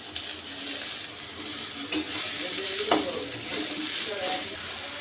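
Sliced snake gourd is stirred into a pan with prawns and lightly fried chopped onion, giving a close, steady sizzle with scraping stir strokes and occasional clinks of the spatula.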